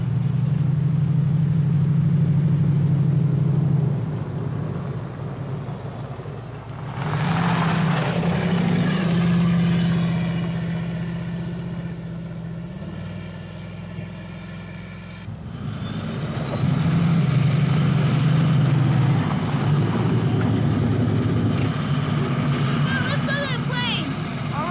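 An airplane at an airport produces a loud, steady engine drone that swells and fades across the scene, with voices talking intermittently over the roar.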